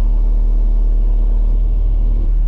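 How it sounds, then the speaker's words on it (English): A skid loader engine pulling a seed tender on a farm holds a close, heavy, low rumble at a steady idle-like pace without pauses. "I'm going to use the skid loader to pull the seed tender back in here"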